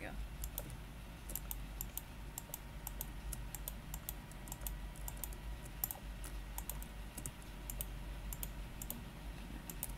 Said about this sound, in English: I hate shift clicking, or tab clicking in my case, but everybody calls it shift clicking